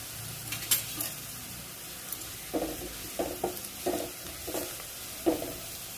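Chopped onion frying with asafoetida and turmeric in a pan, a faint steady sizzle broken by several soft scraping stirs of a spoon through the mixture, close and quiet with no voices.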